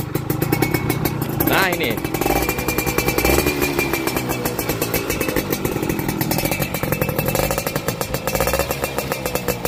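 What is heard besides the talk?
2002 motorcycle engine started with kickstarter, running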